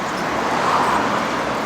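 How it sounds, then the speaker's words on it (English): Car traffic streams past nearby as a steady, dense road roar with a slight swell in the middle, no voices. "it's really loud. All these cars."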